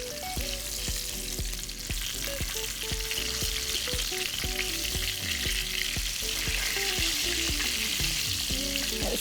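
Duck breast searing in a hot pan, a loud, steady sizzle and crackle with occasional scraping and clinking, no voices.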